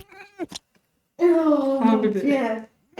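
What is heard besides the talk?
cat meowing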